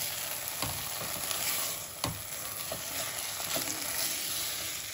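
Coriander rice being stirred in a pan with a spoon, scraping and soft sizzling over a steady frying hiss, with a few sharper utensil knocks; no talking.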